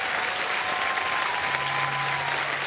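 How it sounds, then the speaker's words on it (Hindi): Loud, dense applause from a studio audience on a television quiz show rolls on steadily without pause, with faint background tones beneath the clapping. "तालियां बजती हैं जोरदार"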